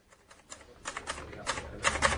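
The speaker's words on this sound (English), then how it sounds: "He was typing out his report." A typewriter clacks through a report, irregular rapid keystrokes in short bursts that grow louder and denser, heard fairly close with no talking.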